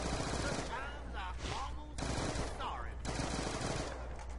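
Sustained automatic MP5 submachine gun fire in Black Ops 2 Zombies on the Die Rise map, a dense continuous rattle of rapid shots with brief gaps, steady and close throughout.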